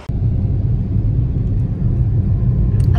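Steady low rumble inside a moving car, a dense continuous road and engine drone filling the cabin, close and even throughout with no talk.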